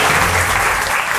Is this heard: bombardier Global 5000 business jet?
no